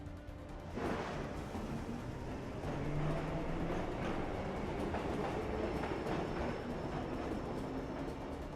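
A subway train in the Assassin's Creed 3 video game rumbles along steadily, a loud continuous roar with rhythmic clattering of wheels on track throughout, with no talking.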